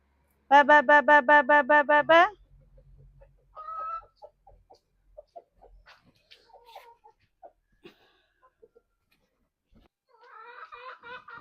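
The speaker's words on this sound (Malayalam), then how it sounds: "കോഴികൾ പാട്ട് പാടിയിട്ട്" Domestic chickens around a home give a loud, rapid burst of pulsed, tonal calling near the start, followed by sparse faint clucks and a softer round of calls at the end.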